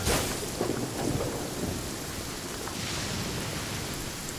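Steady rain and a thunderstorm in the video game Genshin Impact form a dense, continuous hiss of rainfall. Low rumbling thunder rolls beneath it, with no talking.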